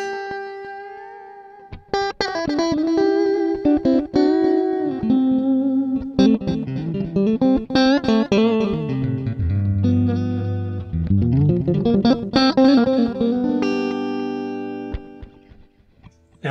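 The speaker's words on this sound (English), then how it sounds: "for a little bit of light slapback and echo?" Electric guitar notes and chords through a cheap AliExpress reverb/echo/delay circuit board set to light slapback, each note followed by a quick repeat and lingering tail, loud and close with no talking.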